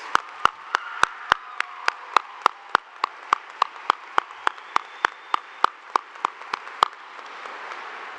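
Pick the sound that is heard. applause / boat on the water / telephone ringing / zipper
applause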